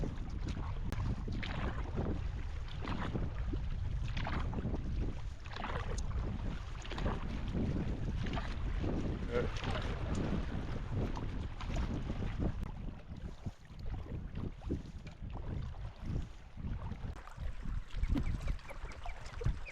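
Wind blowing over Upper Arrow Lake during a paddle, a steady loud rushing with microphone buffeting and low rumble throughout, no talk.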